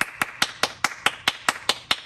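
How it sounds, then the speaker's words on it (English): Slow hand clapping, about ten sharp claps at an even, unhurried pace roughly a fifth of a second apart, close and distinct over a quiet background. "the time between each clap here is long"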